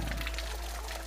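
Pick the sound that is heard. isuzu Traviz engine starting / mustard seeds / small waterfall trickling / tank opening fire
small waterfall trickling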